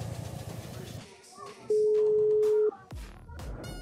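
A single steady ringback tone lasting about one second plays while a driver calls a customer from a phone, heard over background talk and handling noise.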